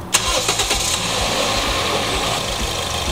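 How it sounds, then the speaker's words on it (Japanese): A car engine with a blown cylinder head gasket, under repair with a makeshift three-way coolant joint and a freshly filled radiator, cranks briefly and catches, then settles into a steady, loud, rumbling idle close by. "エンジンはかかるのよね。"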